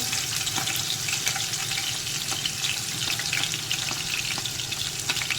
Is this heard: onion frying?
yes